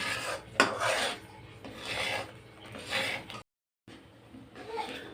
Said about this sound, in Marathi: अशाच प्रकारे आपल्याला हा खवा घोटावा लागतो.